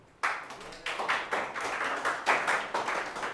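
Students in a classroom break into a short burst of clapping, a dozen or so sharp, uneven claps close by that start abruptly and continue in a loose rhythm.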